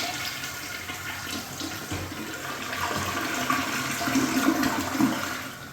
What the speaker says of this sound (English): look how good this flushes when you put those new flush kits